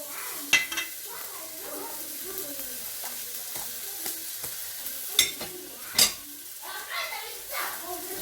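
A beef steak patty for a hamburger sizzling in a frying pan, a soft, steady fizz under occasional sharp clinks of utensils against the pan, with a voice talking in the background at times.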